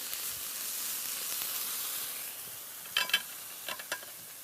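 Blanched pieces sauté in a pan with a steady, fairly quiet sizzle, followed near the end by a few sharper crackles and stirring clicks; no speech.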